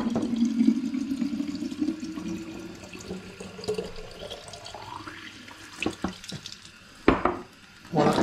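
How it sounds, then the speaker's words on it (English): Warm tap water runs into sanitised recycled home-brew bottles under the tap, a steady splashing stream that shifts in pitch as a bottle fills, followed by a few clinks and sloshes as bottles are handled one at a time. "Once the sanitizer's in the bottle, simply put them under the tap."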